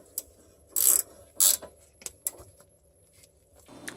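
Tightening a 14 mm brake caliper sliding pin bolt on a Toyota Supra: two short bursts of close ratcheting or metal rubbing, with a few faint clicks and taps between them and at the end.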